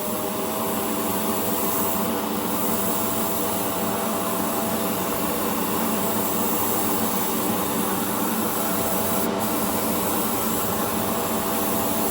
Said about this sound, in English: we'll move over to the paint booth and we'll start spraying